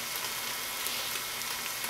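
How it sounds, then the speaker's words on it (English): Dried herbs sautéing with onions and garlic for a pasta sauce, a steady bright sizzle and hiss of frying that runs unbroken and fairly loud throughout, with no voices. "take your dried herbs and you saute them in with the onions and garlic for a minute or 2"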